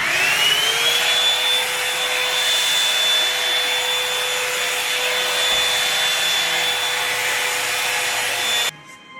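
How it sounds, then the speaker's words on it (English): A hair dryer blow drying a custom lace frontal wig, running as a loud continuous whine that rises in pitch as it spins up, holding steady for about eight seconds before switching off abruptly. "I'm going to go ahead and blow dry her"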